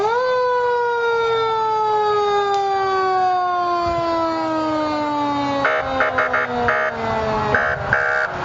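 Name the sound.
old Westwood police car siren in parade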